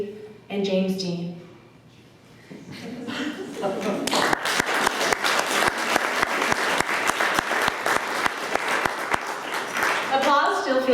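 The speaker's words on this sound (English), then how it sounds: "Applause still feels good even if you like overtly begged for it like a pathetic dog." An audience at a university MFA fiction reading breaks into sustained applause, dense clapping building after brief speech and continuing steadily, with a voice returning at the end.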